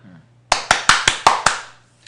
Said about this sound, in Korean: 우리 다시 시장님에게 박수도 한번 보내드려야 되겠죠